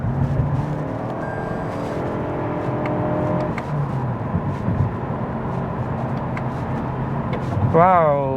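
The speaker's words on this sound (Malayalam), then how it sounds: "ആ ഒരു എൻജിൻ സൗണ്ട് നിങ്ങൾ കേട്ടോ, ആ ഒരു എക്സോസ് നോട്ട് കേട്ടോ" A 2024 Toyota Camry Hybrid's engine and exhaust heard from inside the car while accelerating, a moderate rising hum beneath someone talking steadily throughout.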